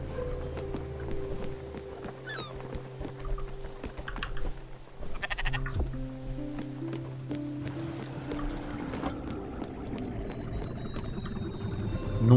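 A sheep in the video game Spiritfarer gives a few short bleats over a calm game soundscape with a low sustained hum and soft water sounds, moderately near and without talk.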